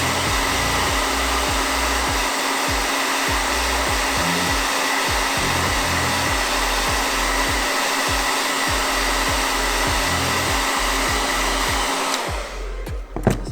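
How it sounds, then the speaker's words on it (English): A handheld blow dryer on the cool setting runs steadily and loudly at close range for about twelve seconds, its fan whine and airflow holding constant before it cuts off abruptly near the end. "I'm going to get my blow dryer and just lock it in with cool air."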